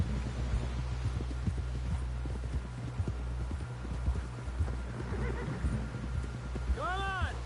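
Horse hooves clip-clopping in a steady rhythmic gait in a video game, close and clear over a low engine-like hum, ending with a short high whinny near the end.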